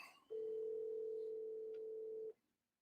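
Steady telephone dial tone heard while placing a call, one unbroken hum lasting about two seconds, then cut off, clear and alone with no talk.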